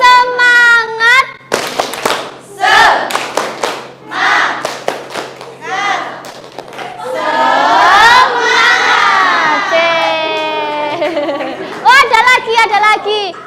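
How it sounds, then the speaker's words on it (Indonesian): A classroom of children performing a rhythmic clap-and-shout chant during a lesson, sharp hand claps punctuating loud, excited group vocals that swell into a sustained cheer, with a teacher's voice and children's speech mixed in. "Oke, tepuk semangat."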